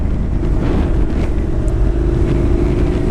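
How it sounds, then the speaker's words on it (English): A 2016 Honda NC700X automatic motorcycle in S mode runs steadily and loudly up close, its engine drone and road rumble carrying on without a break beneath wind buffeting the microphone as it downshifts on its own. "Okay, it's downshifting by itself."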